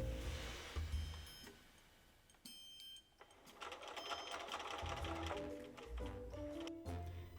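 A sewing machine stitches fabric for a 70s-style dress, running in close, busy bursts of rapid mechanical chatter with short pauses between runs and no talking.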